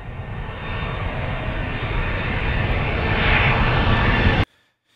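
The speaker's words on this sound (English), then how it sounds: "let's have a look at aeroplane effects." An aeroplane sound effect from GarageBand Live: a loud, steady roar of aircraft engines that swells slightly, then cuts off abruptly near the end.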